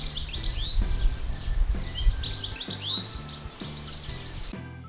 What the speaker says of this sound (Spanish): Este pájaro canta muy bien.